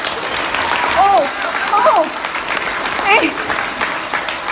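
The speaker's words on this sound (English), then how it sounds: "So I want all of you to give them a big round of applause." An audience at a Diwali community event claps in a loud, sustained round of applause, with whoops and cheers rising over it and a short shouted word.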